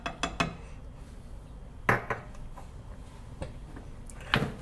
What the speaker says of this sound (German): Kannst du das verquirlen in der Pfanne.